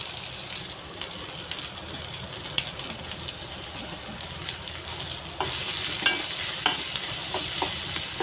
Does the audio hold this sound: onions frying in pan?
yes